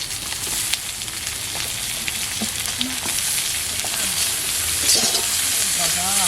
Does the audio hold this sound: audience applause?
no